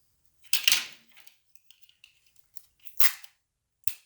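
Adhesive tape is pulled and pressed onto a screen printing screen coated in emulsion, giving a few sharp ripping and tapping bursts separated by near silence, close and fairly faint.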